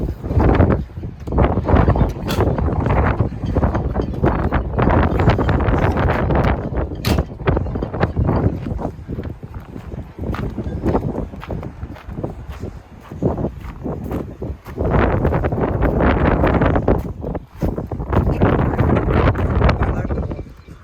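Strong, gusty wind of about 30 mph buffets the microphone in loud roaring bursts that rise and fall, with brief lulls between gusts.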